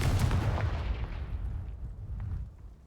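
A fiery Confringo spell blast in the Hogwarts Legacy game bursts out loud and booming, then rumbles and fades away over a couple of seconds.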